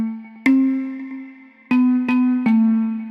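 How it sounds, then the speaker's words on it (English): ML marimba from Coda playing a short melodic phrase, four struck notes in a sparse, uneven rhythm, each attack ringing out and decaying, clear and up close with no voices. "First layer is a ML marimba from Coda and goes like this"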